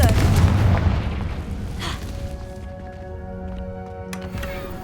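Confringo blast spell exploding in the Hogwarts video game: a loud, booming burst at the start that decays into a rumbling tail, followed by softer magical shimmer and sustained ringing tones.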